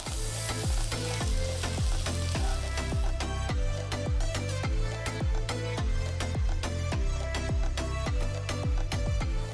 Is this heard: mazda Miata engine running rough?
no